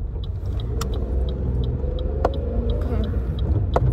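A car driving along gives a steady low road rumble close by, with periodic ticking clicks and a few sharp knocks over the constant drone.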